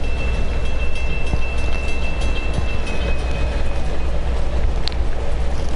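A moving train in Uncharted 2, a loud, continuous rumbling roar of rail cars with a low steady drone and a faint high whine, heard up close without speech.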